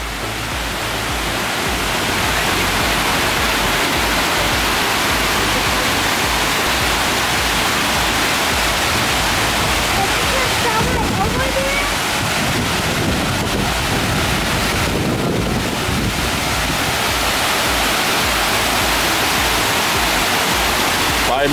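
Water flowing and splashing at Hemisfair Park in downtown San Antonio, a loud, constant broadband rush like a fountain or cascade. It stays steady and close, with a faint, indistinct voice now and then beneath it.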